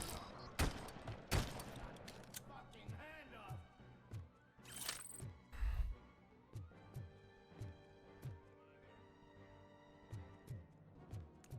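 Gunfire in the Robocop Rogue City video game, repeated bursts and single shots in an irregular rhythm with thuds and metallic clatter between them, fairly loud against a quiet bed.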